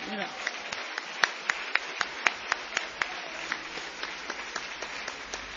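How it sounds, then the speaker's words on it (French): A church congregation applauds, fairly close and evenly sustained, with clear individual hand claps standing out in a loose rhythm over the steady patter for several seconds. "Acclamez les frères et sœurs."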